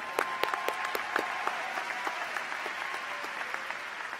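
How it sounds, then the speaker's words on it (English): Applause at a 2022 university commencement ceremony, fairly distant and soft, with a few sharper individual claps standing out early over a steady crowd wash. "That's worth an applause"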